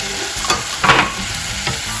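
Tom yam paste fries in a hot pan with a steady close sizzle while a utensil scrapes and stirs it in a few brief, sharper strokes.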